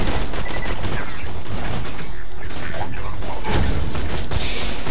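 Sniper rifle fire in the video game Borderlands 2, dense loud gunfire bursts and booms filling the whole stretch with game sounds, a voice faintly mixed in.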